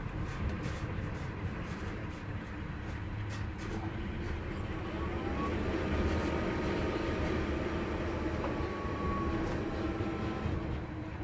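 Strong wind in Ireland roars steadily at a wind turbine site, a loud, broad rushing noise that swells slightly midway, with faint whirring tones underneath and no talking.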